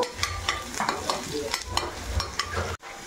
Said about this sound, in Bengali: আমি ওর মধ্যে রসুন কুচি, আদা কুচি দিয়ে দিলাম। এগুলো একটু ভালো করে ভেজে নেব।